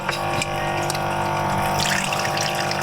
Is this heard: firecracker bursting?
no